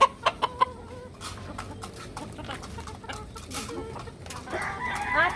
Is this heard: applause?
no